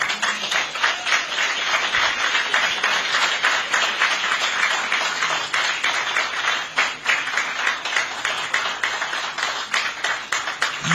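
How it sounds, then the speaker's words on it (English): Audience of program participants applauding while standing at the Imo Digital City flag-off event in Nigeria, steady dense clapping that runs throughout at moderate loudness, with a few brief voices mixed faintly underneath. "Big applause."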